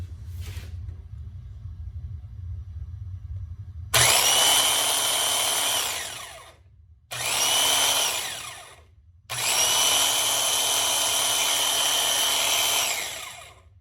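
A Craftsman 5718 jig saw runs in three separate bursts, each a loud, steady high-pitched motor whine with rattling blade noise, separated by short gaps where it winds down and stops.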